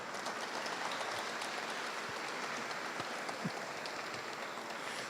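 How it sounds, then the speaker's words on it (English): A reception crowd claps for the State House events team, a dense sustained wash of many hands applauding together at a steady, moderately loud level with no voices on top. "Give them a round of applause, because all that hard work, come on, they deserve that."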